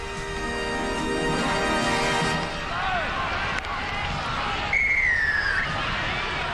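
Referee's whistle at the kickoff of a 1984 rugby league match between South Sydney and Parramatta at Redfern Oval, a clear rising whistle tone sounding over steady crowd hubbub, with broadcast commentary running throughout.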